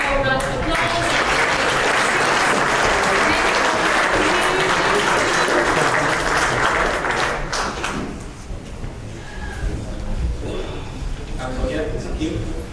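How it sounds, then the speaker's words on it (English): An audience at a cybersecurity conference applauds arriving speakers with loud, dense, sustained clapping from a large crowd for about eight seconds, then thinning out into scattered, quieter claps. "Give them a warm round of applause."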